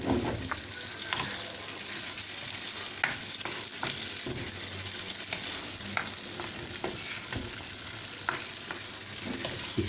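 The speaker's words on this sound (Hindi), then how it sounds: "अब इसको हम मसाला डाल के इसको फाइनली 3 से 4 मिनट तक इसको अच्छी तरह भूनेंगे।" Masala frying and being stirred in a karahi for Balochi tikka, a continuous dense sizzle with frequent spoon scrapes and clicks, close and steady for several seconds with no talk.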